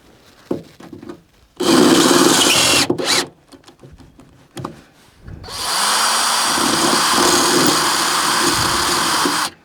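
A power drill fitted with a slightly bigger bit bores a hole during a vehicle restoration, loud close bursts: a short run, a brief blip, then a long sustained drilling stretch, with quiet handling noises between.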